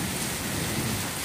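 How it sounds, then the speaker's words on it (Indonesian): Heavy rain pours down over a house during a flood, with a low thunder rumble underneath. It is a steady, dense roar for a little over a second. "hujan petir"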